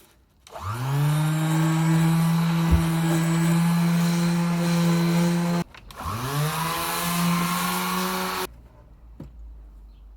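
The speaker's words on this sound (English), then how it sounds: "Just going to use this hateful cheap sander to see whether this makes any difference." A cheap power sander smooths the wooden frames of a boat under construction, spinning up with a loud steady whine, cutting out briefly, then running again before stopping.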